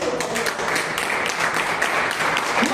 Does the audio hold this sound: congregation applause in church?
yes